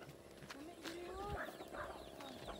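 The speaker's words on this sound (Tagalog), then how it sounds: "Chicken here, chicken there, chicken everywhere." Chickens at a market where native chickens are sold by the kilo, with brief clucks and squawks in a busy setting and people talking throughout.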